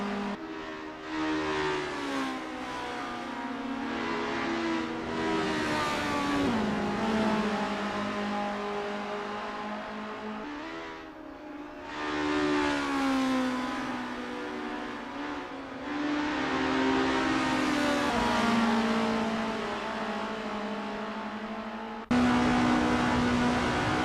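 Race car engines rev and drone continuously on track in the Assetto Corsa sim at Estonia-25 Circuit Piddy, pitch rising and falling in long sweeps as several cars warm up before a race, loud and steady throughout.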